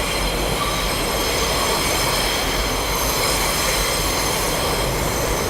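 An elevated subway train roars past overhead on a New York City street, a loud, steady rumble with squealing wheels holding constant throughout.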